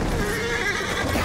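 A horse in Battlefield 1 lets out a loud, shrill whinny that wavers in pitch, up close over a dense battlefield din.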